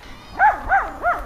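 Three short, high-pitched barks from a small Maltese puppy, close by, in quick succession.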